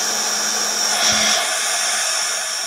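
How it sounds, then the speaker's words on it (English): A hair dryer blasts air over an autumn-themed towel hanger craft, a steady, close whooshing roar that runs unbroken throughout and swells slightly midway. "Let's give this a little bit of a blast dry."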